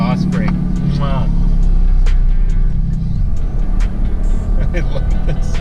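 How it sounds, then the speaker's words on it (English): A truck on a snowy road in a blizzard, a heavy steady engine drone with a low rumbling throb filling the cab, while someone talks over it. "Exhaust brake."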